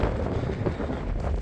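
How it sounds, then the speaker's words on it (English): Strong wind on a beach on the way to the Isle of Skye, roaring continuously and buffeting the microphone loudly with no pause. "I'll show you how windy it is."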